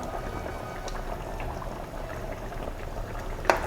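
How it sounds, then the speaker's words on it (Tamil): Tamarind broth for a village-style kuzhambu bubbles at a steady boil in a pot, a constant soft gurgling hiss close by, with a brief clink near the end. "இப்போ புளி தண்ணி சேர்த்து நல்லா கொதிக்குதுங்க"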